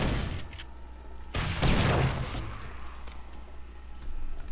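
Gunshots fired in the 7 Days to Die video game during a zombie horde fight, a few loud sharp blasts over a steady background rumble.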